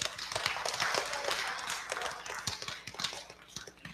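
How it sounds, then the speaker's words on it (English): Steady applause from a crowd, dense clapping filling the room for several seconds without a break. "So let's give them a round of applause as well."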